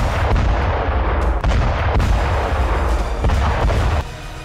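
Repeated heavy artillery and rocket fire on the Zaporizhzhia front in the Russia-Ukraine war, booming dense and loud through the whole stretch with a rough, continuous rumble and no talk.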